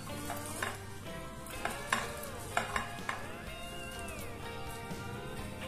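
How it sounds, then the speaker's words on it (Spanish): Christmas salad of potato, celery and apples being mixed in a bowl, giving soft wet stirring and scraping sounds with a few sharper clinks of a utensil against the dish, steady and close. "vamos a empezar a mezclar todo"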